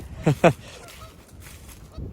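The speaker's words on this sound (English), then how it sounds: "I'm sure you guys can still hear those geese." Two short honking calls from geese, fairly close, followed by a fainter honk a moment later over quiet outdoor ambience.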